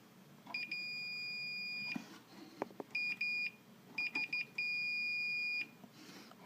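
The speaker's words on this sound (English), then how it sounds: "The only way to know for sure is to measure for continuity." Multimeter continuity beeper sounding while the solder joints of a Fender Tweed Deluxe 5E3 amplifier are checked: a clear, steady electronic tone in several bursts, some long and some short stuttering beeps, with small clicks and handling noise between them.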